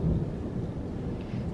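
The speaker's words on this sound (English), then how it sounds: "That's thunder." Low, rolling thunder rumbles steadily from a distant storm, a deep continuous grumble with no voices over it.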